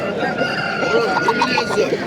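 A rooster crows nearby amid a noisy bazaar background in Namangan, Uzbekistan, with voices murmuring underneath throughout.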